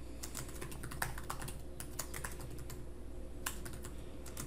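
Steady, rapid keystrokes on a computer keyboard while a title page is filled in within Google Docs, a close, continuous clatter of tapping with brief pauses and no voices.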